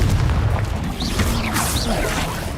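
Confringo fire-blast spell cast during a Hogwarts Legacy duel: a dense, booming burst with crackling impact noise, layered among other loud spell effects and combat clatter.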